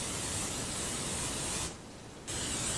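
Cooking spray hissing onto a waffle maker in a steady close burst, pausing briefly before a second short spray, with no talk.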